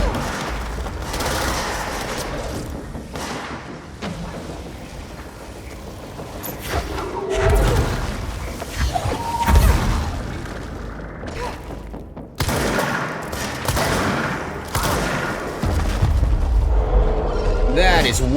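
Grenade explosions in the Control action game, heavy booms and crashing impacts recurring through a chaotic firefight, loud and near, with a player talking over the noise.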